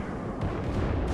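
Boat cannon fire from 20mm and 37mm guns in War Thunder naval combat: dense, continuous heavy booming with rapid overlapping shots, loud and close, with no talk.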